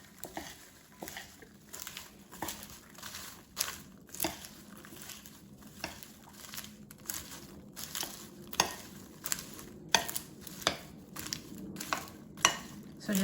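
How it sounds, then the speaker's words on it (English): Popcorn tossed and stirred in melted chocolate in a bowl, giving soft, repeated rustling scrapes and occasional light clinks at an irregular rhythm, close and fairly quiet. "So let's add our popcorn to the chocolate. And toss it so it's coated with chocolate."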